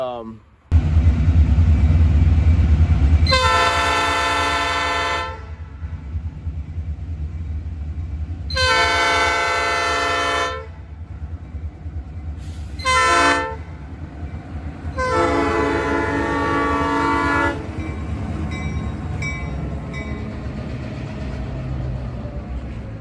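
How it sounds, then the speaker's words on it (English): Two Norfolk Southern high hood diesel locomotives running as a lash-up pass close by, sounding repeated loud horn blasts in several long bursts over a steady engine rumble, with no talking. "my best catch of 2020, and that was double NS high hood lash up on Conroe WP 61"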